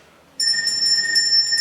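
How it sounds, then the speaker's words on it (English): A service bell rung by a bossy employer sets off a bright, sustained high ringing that starts abruptly after a near-silent moment and keeps sounding to the end. "if I'm not back in a minute, he'll start ringing his bell"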